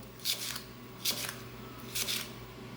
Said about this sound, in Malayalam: എനിക്കിത് അമരയ്ക്ക അരിയുന്നത് നല്ല ഇഷ്ടമാണ്.